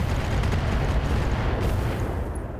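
An LRM ammunition explosion in the mech combat game RogueTech gives a loud, sustained roaring rumble for about three seconds, heavy in the low end with a crackling wash on top and no talking.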